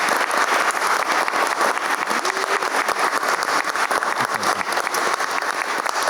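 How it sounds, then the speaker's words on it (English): An audience at a community Coming Out Day event in Pasadena claps steadily, dense, loud applause that stays even throughout with no voices over it. "Round of applause."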